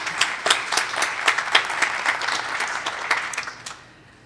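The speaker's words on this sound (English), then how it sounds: "I think she deserves a nice round of applause" Applause from an audience at a graduation ceremony for a master's programme, with distinct individual claps standing out in a moderately sized round that fades out after about three and a half seconds.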